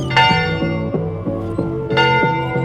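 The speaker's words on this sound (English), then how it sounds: "Villagers heard the bell and ran home like crazy." A village alarm bell rings in steady, repeated strokes, each clang ringing on into the next, loud and close with no voices.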